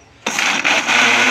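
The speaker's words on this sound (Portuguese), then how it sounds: "eu vou ligar o liquidificador por 2 minutos para bater" A kitchen blender switches on abruptly after a brief quiet moment and whirs loudly and steadily, blending apple with detergent at close range.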